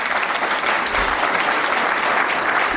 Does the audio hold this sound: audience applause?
yes